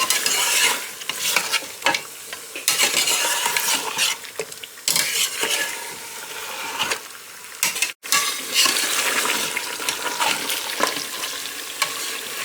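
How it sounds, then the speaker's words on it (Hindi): Mutton for nihari being browned over medium-high heat, sizzling steadily in a pot while a spoon stirs and scrapes with repeated metallic clinks, loud and close, with one brief break in the middle. "हमने अपने गोश्त को मीडियम पे हाई पे करके तो भूनना है 7 से 8 मिनट तक"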